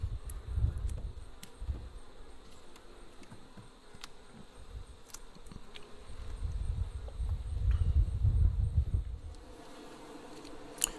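Honey bees buzz continuously at close range around an open Langstroth hive, the low drone swelling and fading as insects fly near and away, with faint clicks in the background.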